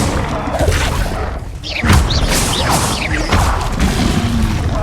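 Confringo blasting spells from the Hogwarts Legacy video game go off in loud, booming explosions with crashes and whooshes, filling the sound without a pause.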